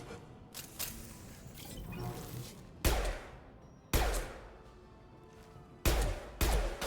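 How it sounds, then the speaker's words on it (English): Rifle fire in the Mass Effect 2 video game: a few sharp, loud bursts spaced a second or two apart, with quieter combat rumble and clatter between them. "I love this rifle."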